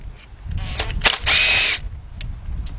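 A power tool undoes nuts on a 2006 Kia Sportage EX 2.7 engine during head gasket work, giving a few short taps and then one loud, close whirring burst of about half a second.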